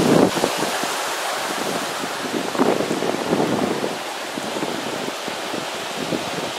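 A small brook flows under a footbridge at a Sandestin resort, giving a steady, close, broadband rush of running water mixed with gusts of wind noise on the microphone, with no talking.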